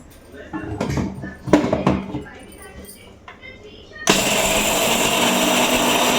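After a few clatters and knocks in a home kitchen, a mixer grinder starts abruptly and runs at a loud, steady whir through the rest of the clip.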